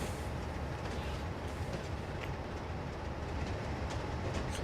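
A Class 47 locomotive rolls past on the East Coast Main Line in a train simulator, a steady, dense rumble with faint rhythmic clicks throughout.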